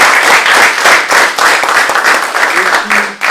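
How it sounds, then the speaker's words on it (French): Audience applause at a cultural event in Dijon: loud, close, continuous clapping with crisp individual claps, thinning a little near the end. "je pense qu'on peut l'applaudir"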